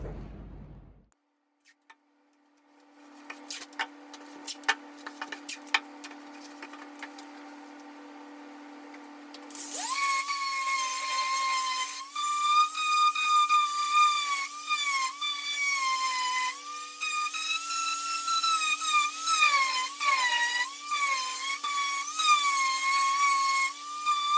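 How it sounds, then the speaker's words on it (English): A steady, abrasive grinding drone runs continuously after a quieter start with scattered clicks, loud and close, as 80-grit sandpaper sands fiberglass on a surfboard repair. "I'm gonna start sanding that. I'm gonna start with 80 grit paper."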